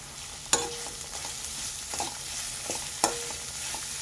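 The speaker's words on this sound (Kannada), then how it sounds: "ಸ್ವಲ್ಪ ಈರುಳ್ಳಿ ಬೇಯೋವರೆಗೂ ಫ್ಲೇಮ್ನ ಹೈ ಮಾಡ್ಕೊಳ್ಳಿ." Onions frying with salt in a pan for cabbage palya, a soft constant sizzle punctuated by a couple of sharp metallic knocks and quieter scrapes of the stirring spoon, with no speech.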